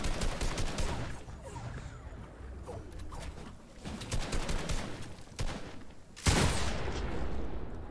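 Rapid bursts of gunfire in a Fortnite Battle Royale custom game, crackling volleys spread across the clip and ending in a loud, sustained blast of shots.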